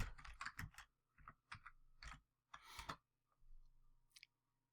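Sharp computer mouse clicks on a home computer while navigating to stream Premiership football, coming in quick irregular bursts of close, crisp taps separated by short pauses.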